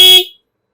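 A PTI P70 pip horn on a motorbike gives one loud, shrill blast that cuts off after about a third of a second.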